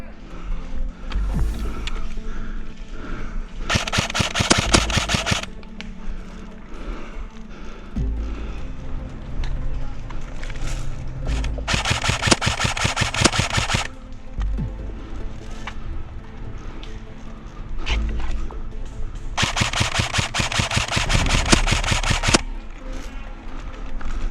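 An Echo1 M14 SOCOM 16 airsoft rifle with a version 7 gearbox, firing .20 gram BBs outdoors on a field, lets off three loud bursts of rapid clattering shots separated by quieter stretches.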